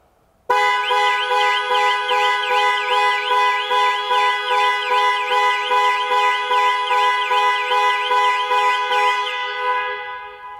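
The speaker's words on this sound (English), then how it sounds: "Press for 3 seconds, or press 3 times in 3 seconds, and the horn will sound and the hazard lights will flash." Jaguar F-PACE panic alarm sounding, a loud, continuous electronic warble of pulsing tones that cycles rapidly and steadily for about ten seconds before cutting off.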